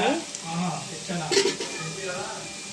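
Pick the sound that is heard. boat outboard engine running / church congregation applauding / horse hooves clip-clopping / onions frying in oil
onions frying in oil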